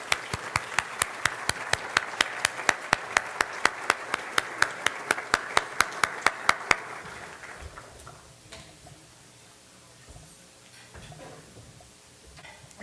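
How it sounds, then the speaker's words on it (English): Audience at a North Carolina dialogue dinner applauds a keynote speaker, heard as a loud run of evenly spaced, sharp claps for about seven seconds that then stops, leaving quiet room murmur. "Let's all give a round of applause for our keynote speaker."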